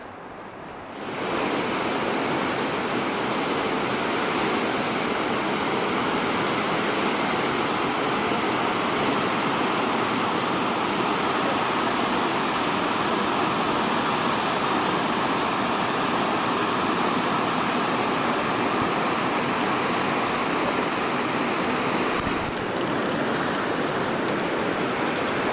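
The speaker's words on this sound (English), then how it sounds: "You can hear the river in here," River rapids in the Grand Canyon roaring as a loud, dense, unbroken rush of water, starting abruptly and holding steady throughout, close and enveloping.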